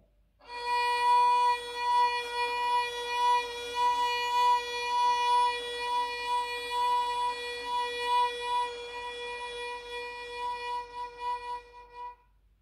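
Violin holding a single sustained note on the second string with slow, wavering vibrato for about twelve seconds, played alone, bright and steady.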